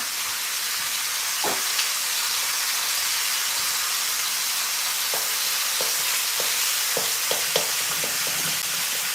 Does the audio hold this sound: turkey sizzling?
yes